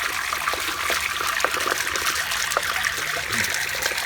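Water flushes out of a fishpond in a continuous, steady trickle and gurgle, moderately quiet and close, with no voices over the flow.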